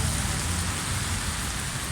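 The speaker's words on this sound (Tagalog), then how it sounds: "Lakas ng ulan dito." Heavy rain pours steadily on a street, a dense, unbroken hiss that fills the whole moment with no voices.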